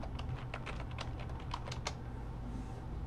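Rapid keystrokes on a computer keyboard, a short burst of close, crisp clicks spread over about two seconds before the typing stops, with no voices.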